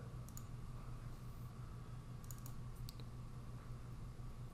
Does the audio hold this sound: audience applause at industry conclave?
no